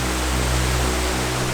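Waterfall in Switzerland pouring steadily onto mossy rocks, a dense, continuous roar of falling water heard close and loud with no voices.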